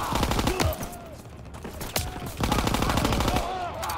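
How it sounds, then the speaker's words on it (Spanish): Gunfire from Call of Duty WW2 fills the moment with rapid bursts of automatic weapons and sharp single shots. Loud and close, it comes in clustered volleys over busy game noise. "pero están disparando, ¿vale?"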